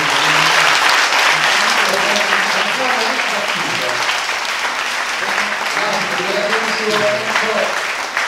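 Dense, sustained applause from a concert audience at a piano concert fills the whole stretch, steady and close with no break, while a voice can be heard faintly beneath it.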